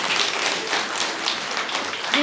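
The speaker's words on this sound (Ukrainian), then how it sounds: "оплески Віталіку, він крутий" Applause from a comedy concert audience, a dense steady wash of many hands clapping at moderate loudness for the whole moment, with no speech over it.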